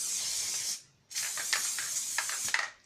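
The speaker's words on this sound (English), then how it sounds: "Let's put a little bit more adhesive on there." Spray adhesive hisses onto fabric for a homemade mouse pad in two close bursts, a short spray and then a longer one after a brief pause.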